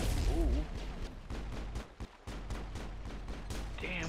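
Repeated gunfire from a Mass Effect shooter game, a rapid train of sharp shots with a lull mid-way, loud and close under a person talking.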